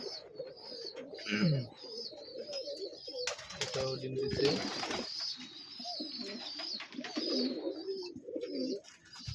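Pigeons coo and murmur in a home pigeon loft, with soft repeated calls, flutters and rustles near and far while a person talks briefly over them.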